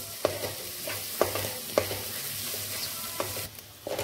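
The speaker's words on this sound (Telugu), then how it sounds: "సో ఇలా కలుపుతూ ఉండాలండి." Egg for a pasta dish frying in a pan while being stirred, a continuous close sizzle with regular sharp scrapes of the spatula across the pan bottom, about one every half second.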